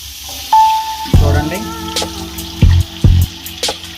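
Coconut milk poured into a pan of golden fried onions for coconut rice: a liquid splash and gurgle followed by bursts of bubbling sizzle, close and fairly loud, with a faint tone and brief talk underneath.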